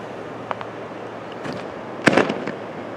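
New Year fireworks at a Texas beach crackle and pop at a distance, a few faint bursts followed by a louder cluster of crackling reports over quiet background hiss.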